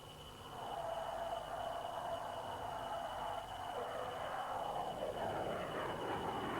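An F-111 swing-wing jet flies past at an airshow with its wings fully swept, a steady, loud roaring drone with a sustained high whine that holds constant throughout, no voices over it.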